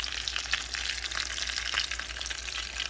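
A Jamaican Scotch bonnet pepper omelette fries steadily in a pan, a constant soft sizzle and crackle at close range with no talking.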